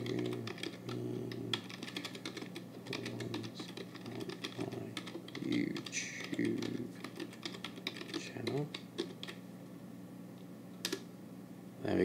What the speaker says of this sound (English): Let me just type those in.